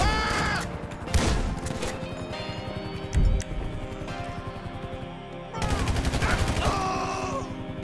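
Gunfire in Grand Theft Auto V, with bursts of shots over game sounds and someone shouting and groaning, loud clusters near the start, middle and end.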